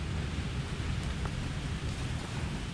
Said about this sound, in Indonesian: Ya, hujan semakin deras, saudara-saudara.